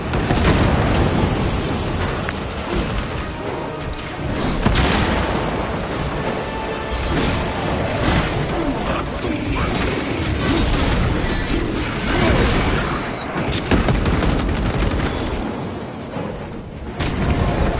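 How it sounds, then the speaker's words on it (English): Frag grenade blast in the Warhammer 40,000 video game, a loud booming detonation within a dense, continuous battle din of crashes and impacts that stays heavy throughout. "Deploy frag grenade."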